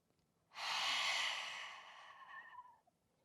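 A single deep yoga breath, one long, forceful exhale through the nose and mouth that begins abruptly, holds strong, then slowly fades, close and clear in a quiet room.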